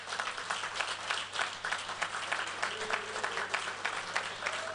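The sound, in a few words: audience applause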